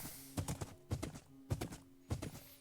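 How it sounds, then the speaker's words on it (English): Skeleton horse hooves in the Minecraft video game clip-clop in steady paired beats, four clear bursts of hoofsteps spaced about half a second apart, close and fairly loud with no talking. "we can ride the skeleton horse to freedom"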